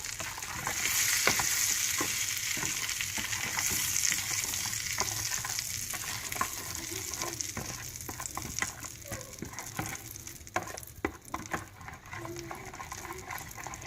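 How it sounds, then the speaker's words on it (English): Hot oil poured over chilli pickle masala spice mix, a steady loud broadband sizzle that settles into crackling, with scattered stirring clicks and scrapes throughout. "I'm going to add this oil into these masalas. So can you hear the sound?"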